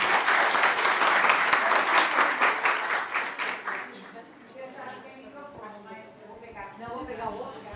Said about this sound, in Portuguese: Palmas para a nossa palestrante.